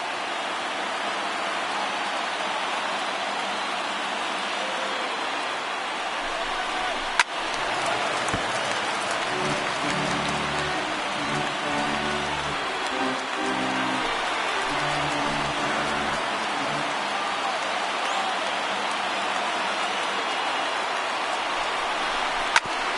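Video-game stadium crowd of MLB The Show 19 rising to its feet, a continuous broad roar of cheering and applause throughout, with a commentator's voice speaking under it in the middle.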